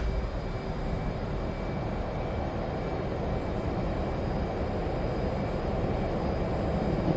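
F/A-18 jet engines spool up in the DCS flight simulator, a loud, steady broadband roar with a faint high whine that holds without letup, no voices over it.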